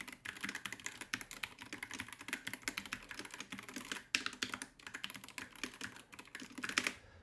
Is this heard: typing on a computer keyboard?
yes